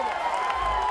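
Wrestling crowd cheering at a live match, a brief dense wash of voices and clapping that stays loud and constant across the moment.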